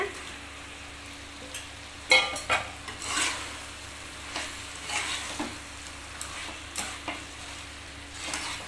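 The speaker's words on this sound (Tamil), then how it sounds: "எண்ணெய் விட்டு நல்லா மசாலா நல்லா வெந்துருச்சு இந்த டைமில் சிக்கனை போட்டுக்கலாம்" Chicken frying in oil with masala for chukka biryani, a steady sizzle broken by repeated scraping and clanking stirs of a ladle against the pan.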